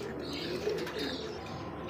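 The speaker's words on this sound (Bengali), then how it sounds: "তো দর্শক দেখতে পাচ্ছেন টাইগার গোল্লা কবুতর, একদমই দেখার মতো টাইগার।" Tiger Golla pigeons coo low and soft amid a steady, noisy background of a pigeon market, with a brief fuller coo near the middle and no talking.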